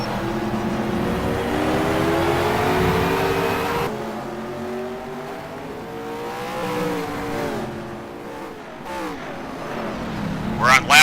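Three race cars battle for position on a circuit during a Gone Broke Racing event, engines droning loud and continuous with rising and falling revs, while a commentator talks over the action.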